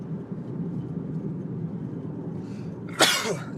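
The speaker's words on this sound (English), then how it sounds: "Excuse me on a sneeze." A single sharp sneeze bursts out near the end, close and loud, from a man still getting over a bug, following a few seconds of low, steady background rumble.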